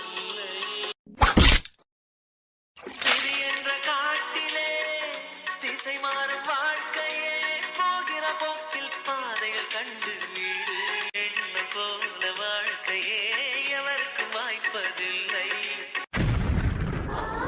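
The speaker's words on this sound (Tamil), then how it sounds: "ஏதோ பாத்திரம் கீழே உருண்டு விழுந்த மாதிரி தானே சத்தம் கேட்டுச்சு" A sudden loud crash and clatter, like a metal pot tumbling to the floor, comes twice in quick succession, followed by steady background music.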